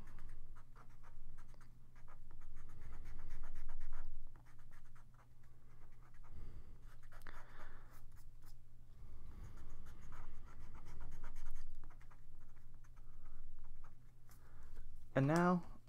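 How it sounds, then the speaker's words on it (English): Pencil guide lines are erased from paper on a drawing of Scorbunny, quiet rhythmic rubbing strokes that come and go in bursts, faint and close, and a voice talks throughout. "I'm going to just erase all the extra lines, all the placement lines that helped us get where we were going."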